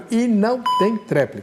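A time-limit alarm on a televised debate show, signalling twenty seconds left, sounds as one short steady beep partly buried under someone speaking.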